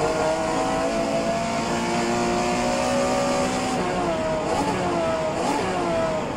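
Porsche 911 Carrera RSR 3.0L race car in rFactor 2, its engine droning loudly and steadily, with pitch drops and climbs at each gear shift around the middle and end.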